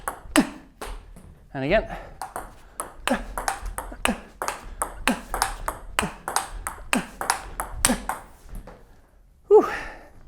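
Table tennis ball striking a paddle with 37-hardness sponge rubber: a steady run of sharp, clicky pings in quick rhythm, close and fairly loud, with brief speech partway through.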